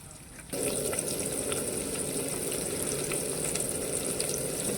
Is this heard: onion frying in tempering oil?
yes